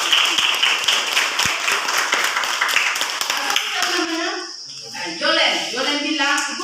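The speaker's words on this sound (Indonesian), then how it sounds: "Tepuk tangan dulu dia." A classroom of young students gives a burst of rapid clapping for a classmate who answered a question, the applause thinning and stopping as a teacher's voice takes over.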